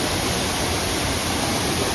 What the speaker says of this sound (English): third waterfall of the day.